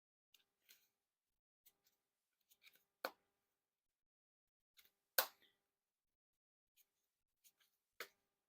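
Eastern Forest playing cards being cut into packets, giving sparse, crisp snaps and flicks scattered irregularly over several seconds, close and fairly quiet against near silence.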